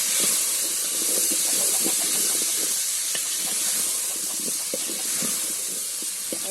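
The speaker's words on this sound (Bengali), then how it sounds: "এবার আমি একটু কষতে নিচ্ছি" Singhi fish curry with raw banana and ground spices, including coriander and cumin powder, sautés in a pan with a steady, loud steamy hiss and scattered crackles throughout.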